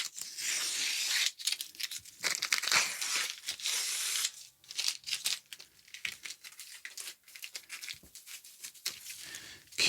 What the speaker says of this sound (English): I should have taken the tape off and then done this.